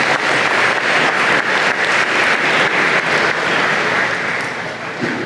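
A large crowd at a college of engineering and computer science convocation breaks into loud, sustained applause, dense clapping filling the whole stretch without letting up.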